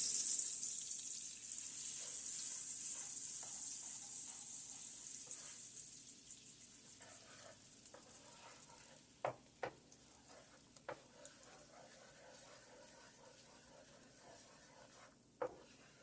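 Flour cooking in butter in a large pot over very low heat for a sweet halwa, making a soft, fading sizzle with occasional sharp clinks of stirring, close and quiet with no talk.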